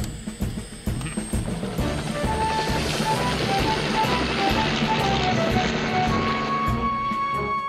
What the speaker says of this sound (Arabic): إنه صوت مروحية